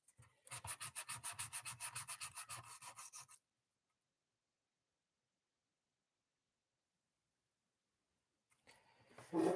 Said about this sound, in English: I'll end up sanding the whole thing by the time it's done